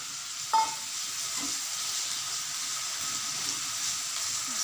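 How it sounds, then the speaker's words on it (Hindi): Potatoes frying in mustard oil for a matar nimona send up a steady, close sizzling hiss, with a single brief clank of a utensil early on. "थोड़ा आलू फ्राई कर लेंगे ब्राउन होने तक"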